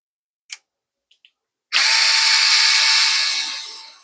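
A power drill drives screws into a plastic bulkhead mount for a Lowrance Active Target transducer, a few faint clicks followed by a loud, close, steady whirring run that tapers off at the end.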